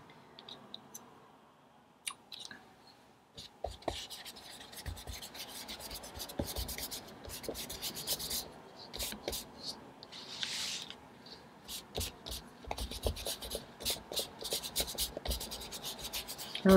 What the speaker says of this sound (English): Really scrub that in well.